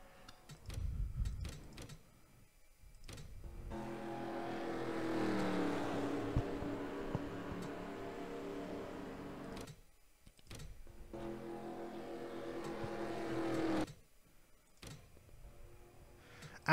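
Race cars in the NASCAR Racing 2003 game at Talladega, two long stretches of droning engine roar from the pack with quieter gaps and clicks between them.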